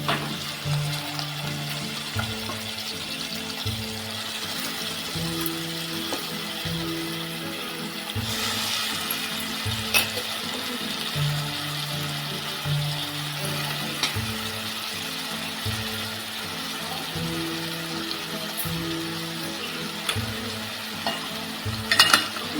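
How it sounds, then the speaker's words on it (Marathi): Fresh jawla, tiny dried shrimp, frying in a pan while being stirred, a steady sizzle with repeated scraping strokes of the spoon running throughout at close range, no voices. "आता आपण याच्यामध्ये हा जवळा टाकून घेऊया"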